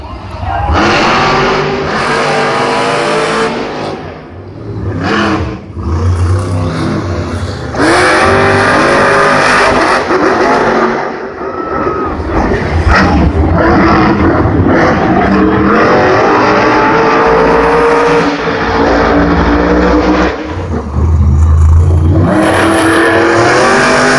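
Monster trucks in Monster Jam qualifying races at Gillette Stadium in Foxboro, Massachusetts: loud, continuous roaring engines with revving surges throughout, overlaid by an arena announcer talking.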